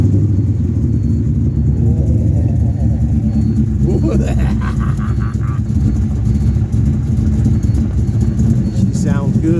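The engine of the Franken-7 project car runs with a steady, close mechanical rumble after being started, and people talk over it throughout.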